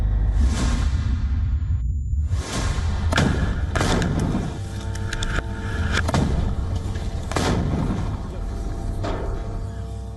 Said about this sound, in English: The footage appears to show fighters using rocket-propelled grenades to attack armoured vehicles.